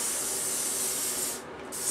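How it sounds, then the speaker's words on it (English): A can of hairspray hisses in a long, close spray, stops for a moment, then starts hissing again. "You're also going to take your hairspray, spray that up"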